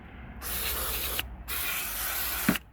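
Two bursts of aerosol grease lubricant hiss onto the sliding door runner of a Mercedes Vito van, each about a second long and close, separated by a short pause and ending with a slight rattle.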